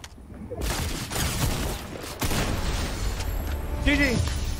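Lever-action shotgun blasts in a shooter video game, several heavy booming shots spaced with cycling pauses amid chaotic battle noise, loud and close.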